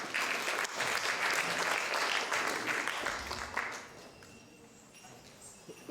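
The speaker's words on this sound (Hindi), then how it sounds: "आपकी जोरदार तालियों में मंच पर मैं आमंत्रित करना चाहूँगा डॉक्टर विजय मेहता जी का।" Loud applause from a conference audience fills the hall, steady and dense for about four seconds before fading to quieter scattered claps.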